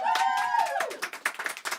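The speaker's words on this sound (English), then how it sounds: "give a big round of applause to Elaine" An audience claps for a woman named Elaine at a live show in a small venue, light scattered applause that grows into distinct claps after a sustained sung or held tone fades.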